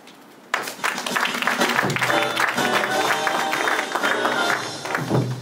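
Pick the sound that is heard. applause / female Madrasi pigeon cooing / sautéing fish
applause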